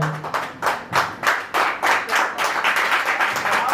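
A short burst of rapid, close hand clapping from a small group, irregular slaps blending into brief applause.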